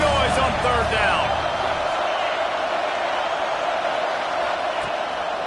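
A football stadium crowd roars on third down, a dense, sustained wall of cheering and noise that stays loud throughout, with faint whoops and a brief burst near the start.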